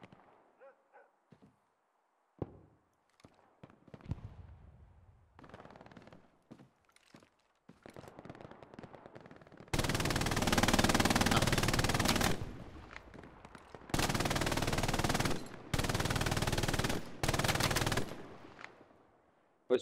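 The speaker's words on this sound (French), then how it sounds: "Là par contre ça tire." Bursts of rapid machine-gun fire and scattered gunshots fill a night battle at Sainte-Mère-Église in the WWII video game Hell Let Loose. Sparse shots come first, then long, loud, sustained volleys broken by brief pauses.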